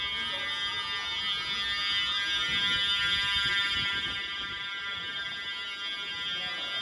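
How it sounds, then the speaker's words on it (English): An alarm at an airport tram station buzzes loudly and continuously, a harsh, steady electronic tone that fills the space without pause for the whole stretch. "that's just the alarm. Ow, it's so loud, it's so annoying!"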